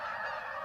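Geese honk in a dense flock, a brief burst of overlapping nasal calls blending into one continuous chorus, fairly close and loud, with no talk.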